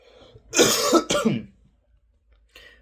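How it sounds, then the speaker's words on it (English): A person coughs twice, two harsh close bursts in quick succession, followed by quiet and a faint breath. "My apologies, I'm still coughing a little."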